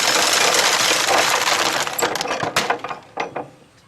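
An antique 1903 corn planter being worked by hand, giving rapid clicking and rattling mechanical noise that thins into separate sharp clacks toward the end, close and fairly loud with no talk.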